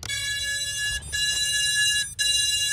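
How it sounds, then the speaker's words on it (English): Electronic beeper buzzer on a model rocket, a loud close harmonic-rich tone sounding in three long pulses separated by brief gaps. "So, how about we just try the beeper?"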